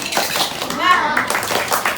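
Children clap the rhythmic tepuk semangat chant at the close of a lesson, patterned hand claps mixed with young voices chanting and speaking over them.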